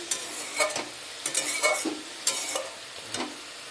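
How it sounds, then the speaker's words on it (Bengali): Radish sizzles steadily in a frying pan, punctuated by repeated scraping and knocking as a utensil stirs it, close and fairly loud with no talking. "এই যে মূলো ভাজা হচ্ছে,"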